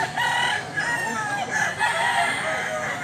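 A Brass Black breed rooster crows in a loud, drawn-out call, with other fowl sounds nearby at a farm selling chickens in Mantalungon, Cebu. Voices can be heard in the background.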